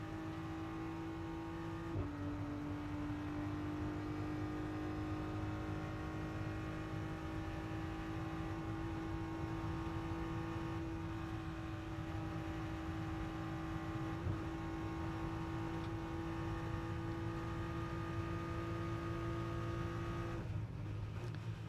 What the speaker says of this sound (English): a great noise from the BMW